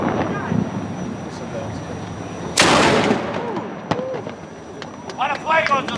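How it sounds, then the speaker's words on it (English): A single loud blast from a historic fort cannon at Castillo de San Marcos, St. Augustine, booms over outdoor wind noise, followed by scattered voices and distant shouts. "That cannon's fired."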